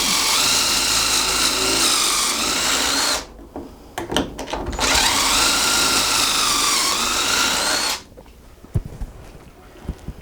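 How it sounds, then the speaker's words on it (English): A power drill whines loudly through a long burst as it drills holes in wood, stops briefly with a few clicks and knocks, then drills again and cuts off near the end. "we're making sure that all the holes we're drilling are on the same side as the ones we previously drilled"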